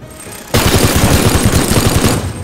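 A minigun fires in the video game Teardown, opening abruptly after a short lull into a loud, continuous rapid burst of dense, evenly pulsing shots.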